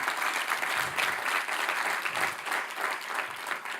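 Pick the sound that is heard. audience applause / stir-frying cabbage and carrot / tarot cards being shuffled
audience applause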